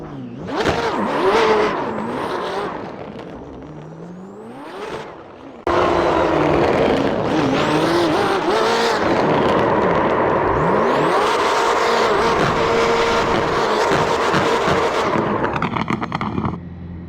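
A BMW M8 GTE racing car engine in the iRacing game revs hard and whines through gear changes, rising and falling in pitch with crackling overrun pops, loud and continuous throughout.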